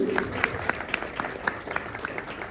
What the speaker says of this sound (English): please clap nicely for me